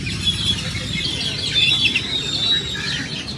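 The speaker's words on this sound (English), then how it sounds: "Those birds are too loud." Many birds chirp loudly and continuously in a town square in Xico, Veracruz, Mexico, their dense tweets layered over a low murmur of people and street bustle.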